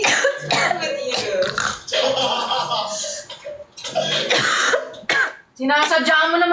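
Repeated harsh, deliberate coughing and throat clearing mixed with excited voices talking, loud and close, during a live stream.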